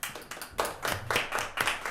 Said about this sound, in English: You're clapping for the director, not for the commission.